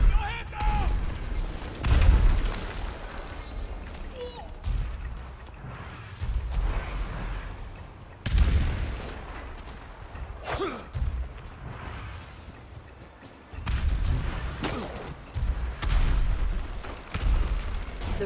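Warship cannon fire in Ghost of Tsushima on Iki Island, a series of heavy booms and crashing blasts at irregular intervals, mixed with voices talking throughout.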